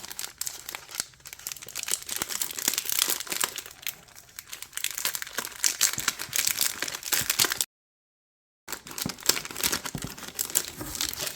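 Crinkly plastic packaging around new paper-crafting products is torn open and handled up close, a dense, continuous crackle that drops out briefly near the end before resuming.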